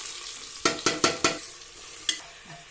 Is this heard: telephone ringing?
no